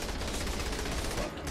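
Rapid, overlapping gunfire from a firefight in Saints Row: The Third, a dense continuous rattle of automatic shots with no clear gaps across the whole stretch.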